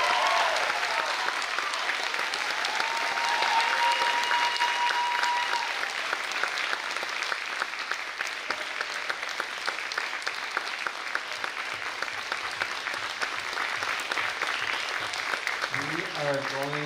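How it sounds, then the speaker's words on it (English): An audience applauds graduates at the close of a wind ensemble's final concert, with steady dense clapping and some cheering that fills the hall for the whole stretch and fades slightly toward the end. "Give a round of applause for our graduates."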